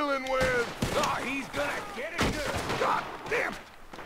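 Repeated gunfire from a Western shootout at an enemy camp in Red Dead Redemption, sharp broadband cracks scattered across the span amid game music and effects, loud and near, with a voice talking throughout.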